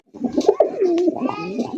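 Fancy coloured Rasgolla pigeons coo up close in a short, throaty, rolling phrase, with faint human voices in the background.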